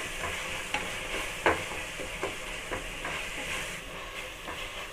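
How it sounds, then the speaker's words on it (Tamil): Steady sizzling of ginger garlic paste sautéing in a hot pan for chicken biryani, with occasional scraping and stirring clicks, close and continuous, no voices. "இஞ்சி பூண்டு பச்சை வாசனை போகிற அளவுக்கு நல்லா வதக்கிக்கோங்க."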